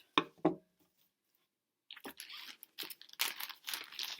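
Cutting excess material for a Dollar Tree Valentine's craft: two short crunchy snips close together, a pause, then a run of crinkling and rustling handling sounds.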